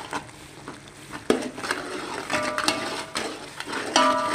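Sweet colored rice with boiled rice and dry fruits being stirred in a pot, heard as close, irregular scraping and clinking stirring strokes with a few sharper knocks and no talk.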